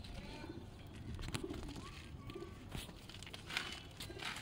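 Pigeons at a rooftop loft coo softly in short, low murmurs over a steady background hum, with occasional rustling and faint crinkling nearby.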